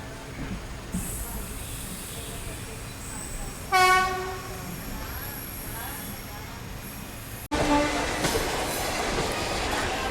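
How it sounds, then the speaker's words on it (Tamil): Passenger train pulling into Erode Junction, a steady rumble of wheels on track with a loud horn blast midway and a sharp burst of noise near the end, heard close from on board. "கரெக்டாக 10 மணிக்கு ஈரோடு ஜங்ஷனுக்கு நம்ம ட்ரெயின் வந்துடுச்சு."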